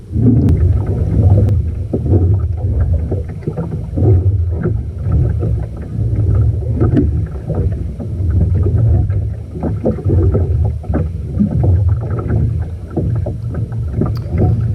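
Oars dip and pull through water in a steady rowing rhythm, with splashes and creaks from a small DIY wooden sailboat, close by under a low wind rumble.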